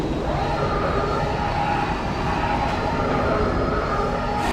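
Rumbling spacecraft engine in the Star Wars: TIE Fighter video game, a steady dense roar that stays loud and even throughout, like a craft departing.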